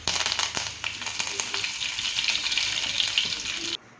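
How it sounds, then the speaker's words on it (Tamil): Mustard seeds, dried chili and curry leaves fry in hot oil, a loud continuous close sizzle with scattered pops and crackles that cuts off near the end. "அதில் கொஞ்சமாக கடுகு உடைஞ்சதுக்கு அப்புறமா இதில் ஒரு காஞ்ச மிளகாய் ஆட் பண்ணியிருக்கேன்"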